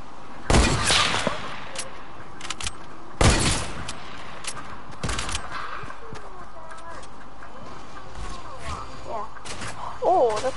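Gunfire from a first-person shooter video game: a few sharp, loud shot bursts spaced several seconds apart over a busy background of game noise, with some faint voice-like sounds.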